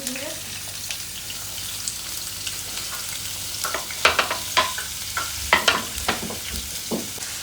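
Oil sizzles in a hot pan while crab is cooked, a continuous frying hiss broken by scattered crackles and pops that grow busier midway, with faint low hum beneath and no clear talk.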